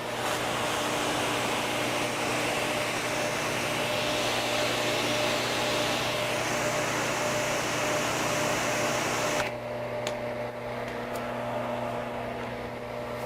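A Sunjoe pressure washer sprays through a 40-degree nozzle with a steady, loud hissing rush and motor hum, the spray noise dropping off abruptly near the end while the machine keeps droning.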